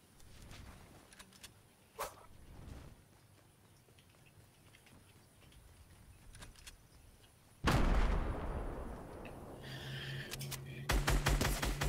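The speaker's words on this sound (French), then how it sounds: "ça tire depuis tout à l'heure, mais je sais pas où" Gunfire bursts in a Fortnite squad match: a quiet stretch with a few scattered distant shots, then loud, dense rapid firing erupts partway through and continues with sharp cracks toward the end.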